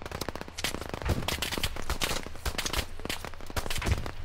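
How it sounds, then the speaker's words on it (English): Dense, continuous automatic gunfire and scattered shots fill Operation Harsh Doorstop combat, loud and close, with rapid bursts throughout. "panic shooting."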